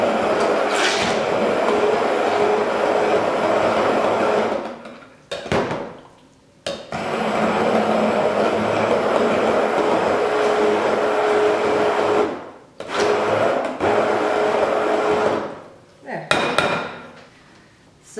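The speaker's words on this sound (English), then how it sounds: "I'm gonna use my immersion blender to get some of these chunks out of" An immersion blender whirs loudly and close by in three long bursts, each cut off by a short pause, blending chunky tomatoes into pizza sauce. No one speaks.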